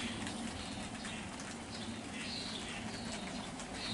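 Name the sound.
rain falling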